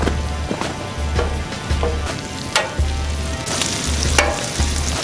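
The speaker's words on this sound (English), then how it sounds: "We'll get a few eggs cooking on there. Let's toast up some ciabatta rolls." Eggs frying and ciabatta rolls toasting on a Blackstone 36-inch griddle, with a steady close sizzle broken by a few sharp clicks and scrapes and brief low thumps from handling on the cooktop.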